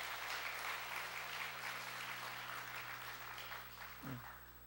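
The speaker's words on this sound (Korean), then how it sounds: "박수해 주세요" Church congregation applauding at an Easter morning service, a steady broadband patter of many hands that fills the room before fading slightly near the end, alone without talk.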